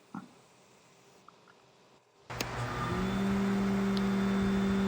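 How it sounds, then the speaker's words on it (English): A belt sander sits quiet for about two seconds with a few faint clicks, then its motor switches on and spins up into a steady, loud hum as the belt runs on an awl's burr. "I'm going to remove that burr using a belt on my belt sander"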